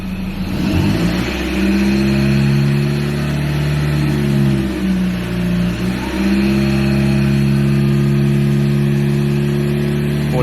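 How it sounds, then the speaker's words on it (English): A Ford Ranger pickup engine with an aftermarket power chip holds raised revs, a loud steady drone with slight dips in pitch, alone with no talking. "Let's bring the revs up."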